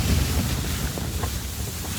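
Relentless strong wind in a high-altitude mountain snowstorm near 6400 m, a loud continuous roar buffeting the microphone without pause.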